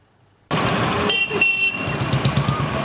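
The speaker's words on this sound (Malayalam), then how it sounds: "കാതടപ്പിക്കുന്ന ശബ്ദത്തിൽ ഹോൺ മുഴക്കി വാഹനങ്ങൾ." Vehicle horns blare loudly in a town-centre street beside a government taluk hospital in Kodungallur. After a brief silence, traffic noise bursts in with overlapping, sustained honks from close by.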